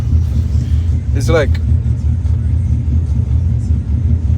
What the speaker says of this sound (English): We're just gonna let the truck warm up a bit